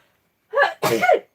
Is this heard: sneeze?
yes